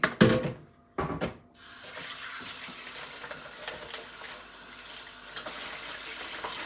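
Weak water flow runs from a household tap, a thin steady trickle following two brief louder bursts at the start, close and alone with no talking.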